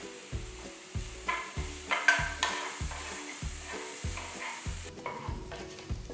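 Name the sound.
onion, garlic, ginger and green chilies sauteing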